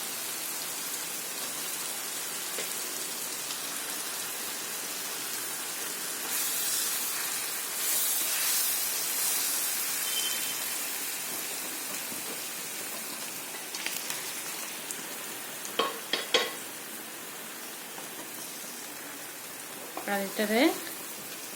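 Pieces of boal fish frying in hot oil, a steady hiss and crackle like light rain, with someone speaking briefly and a few clinks of utensils near the end.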